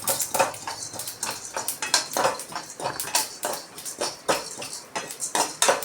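Sesame seeds and chana dal dry-roasting in a pan for iron-rich idli podi, giving a rapid run of sharp crackling pops and light clinks that repeat close up, with no voices.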